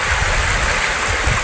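A waterfall in Barangay San Vicente, Gumaca, Quezon rushes in a steady, loud, close wash of water with no pauses and no voices.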